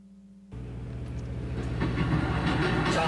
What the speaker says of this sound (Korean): 자, 이제 열차가 소리를 내면서 농촌역으로 지하철을 지금 가고 있어요